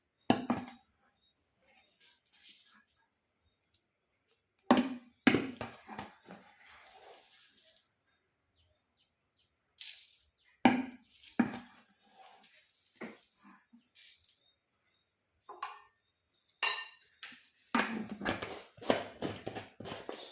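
Dry oats are poured onto a plate already holding powdered milk and granulated sugar, making soft, close rustling bursts in a few separate pours with quiet gaps between them and no talking.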